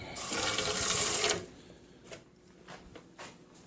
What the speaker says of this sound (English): the water is draining out at this point.